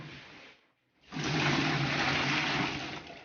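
Goat cheese whey pours out and gushes into a bucket in a steady rushing stream close by, after a brief pause at the start, with no voices.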